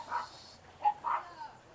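Dogs outdoors give a few faint, short whimpers and yips, with a soft bark between quiet pauses, from one of five dogs kept out in a yard.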